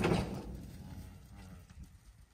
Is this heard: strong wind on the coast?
no